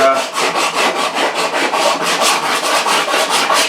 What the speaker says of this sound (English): I just want to scrape it a little bit so I can inspect this thing for uniformity